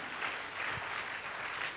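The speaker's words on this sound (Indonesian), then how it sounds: "Tepuk tangan bagi Tuhan." A church congregation claps together during a sermon, a broad, continuous wash of applause heard from a little distance at a fairly low level.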